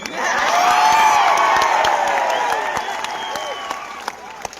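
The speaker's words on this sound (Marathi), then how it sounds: "आणि एकदा जोरदार टाळ्या होत्या आता मयासाठी" A big crowd at a live rally breaks into loud applause with cheers and whoops, swelling at first then gradually thinning out into scattered claps toward the end.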